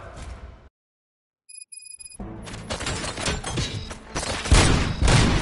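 Gunfire in the video game RoboCop: Rogue City, a loud rising burst of repeated shots and impacts after a brief silence and a few electronic beeps, growing into a dense barrage.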